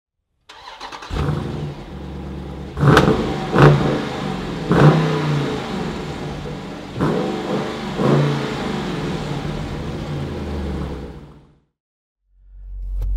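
A 2020 Dodge Durango SRT's 392 cubic inch V8 engine starts and revs hard several times, deep and loud up close, with sharp throttle blips before cutting off near the end.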